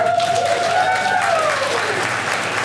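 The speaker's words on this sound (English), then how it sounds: "Shall we clap again for Omar?" Audience at a community night applauding a performer, steady dense clapping throughout with a faint tonal whistle or feedback line sliding above it.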